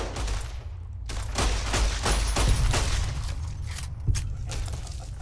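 Rapid bursts of automatic gunfire in Fallout New Vegas, a dense volley of shots crackling steadily for several seconds with a sharp louder report near the end, no voices over it.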